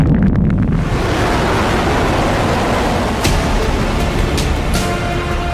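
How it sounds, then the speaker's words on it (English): A rocket lifts off with a loud, continuous broadband roar that fills the whole stretch, steady and wind-like, with a few sharp crackles near the end. "1, liftoff."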